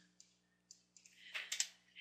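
Computer keyboard keys pressed one at a time, close and crisp: several separate clicks, then a faster cluster of louder taps over a low steady hum.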